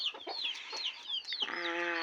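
Hen and her chicks clucking and peeping nearby, with repeated high chick cheeps over soft hen clucks and a steadier harmonic call near the end, no talk.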